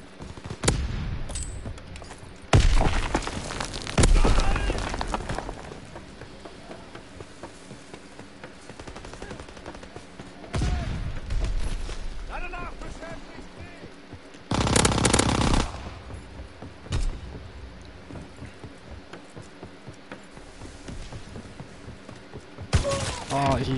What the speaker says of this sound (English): I should probably change my submachine gun, but it's so fun to use. It shoots the fastest.